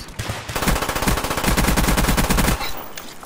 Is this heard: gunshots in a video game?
yes